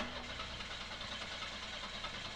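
A 1988 Buick 2.0L or 2.5L engine cranks, a fairly faint, steady mechanical whir with a fine low pulsing, heard alone without voices.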